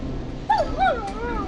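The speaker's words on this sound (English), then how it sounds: "It's my neighbor's dog." A neighbor's dog whimpers and yips in the video game Killer Frequency, giving two short, high, whining cries close together over a steady low hum.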